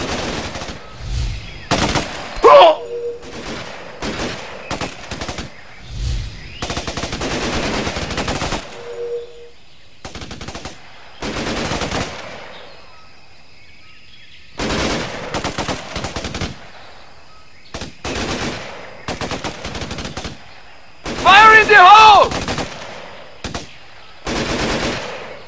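Loud bursts of automatic enemy gunfire from the Xbox 360 shooter Raven Squad, rapid machine-gun volleys in several long strings broken by short silences, close and harsh, with brief voice lines in between.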